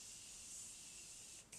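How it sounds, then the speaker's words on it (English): A Morphe makeup setting spray gives one steady, close hiss of mist lasting over a second, then stops briefly before a short final puff. "So first take my Morphe setting spray"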